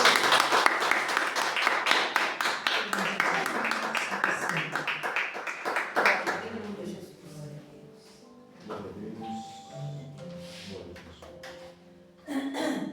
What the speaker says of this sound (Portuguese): as palmas glorificam o Senhor